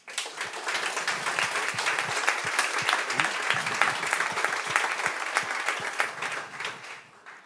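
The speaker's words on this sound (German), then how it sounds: "das ist ein Applaus wert" Audience applause at the close of a panel discussion at a conference, a steady dense clapping from a seated crowd that holds for several seconds and tapers off at the end, with no talk over it.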